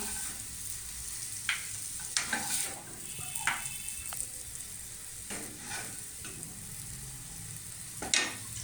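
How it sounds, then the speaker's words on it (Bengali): Cooked sweet-roll stuffing is scraped out of a pan into a bowl, with a spoon giving several sharp, scattered scrapes and clinks over a quiet, faintly sizzling background. "এবার আমি এই স্টাফিংটা একটা পাত্রে একটু নামিয়ে নিচ্ছি।"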